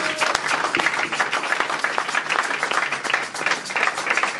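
A church congregation applauds in acclaim of the Lord, a dense, sustained crowd clapping that continues steadily throughout.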